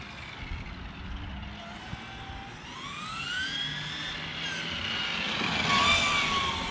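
A 1/5 scale FG 4x4 RC Clio with a nitro engine runs at half throttle, a buzzing whine that climbs and wavers in pitch as the car passes, growing louder toward the end.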